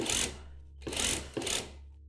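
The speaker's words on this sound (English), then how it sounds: "I'm just going to stitch straight and kind of make it up as I go along" A sewing machine runs straight seams on a fabric tote bag, with three short bursts of close, buzzing stitching separated by brief pauses over a low steady hum.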